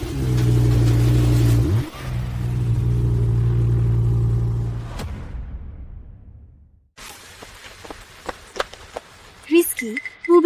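Blue Ferrari sports car engine revving loudly in a sustained low roar for several seconds, cutting off abruptly, followed by quieter scattered sounds and voices.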